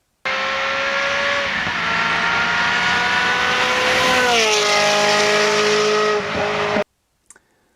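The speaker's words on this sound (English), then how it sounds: "this is what a 2B exhaust sounds like on an F355." A Ferrari F355 with an aftermarket 2B exhaust gives a loud, high-pitched, sustained engine howl with several rises and falls in revs, then cuts off abruptly into near silence.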